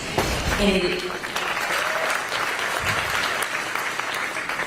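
A crowd applauds loudly and continuously during a live discussion of Virginia's state Senate and abortion access. Brief speech opens the clip before the clapping settles into a steady roar.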